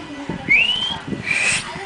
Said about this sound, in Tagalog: O, pito ka na lang, pito ka.